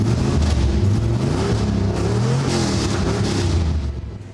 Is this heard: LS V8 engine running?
yes